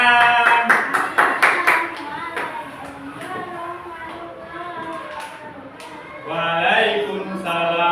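A class of students claps in a quick rhythmic burst during a math lesson, then a voice chants or speaks over quieter moments before a second round of clapping.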